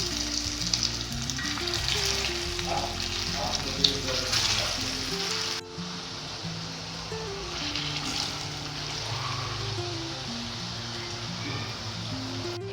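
Soyabean kababs shallow fry in hot oil with a steady, close sizzle and crackle, with background music playing underneath; the tone shifts slightly midway but the frying continues throughout.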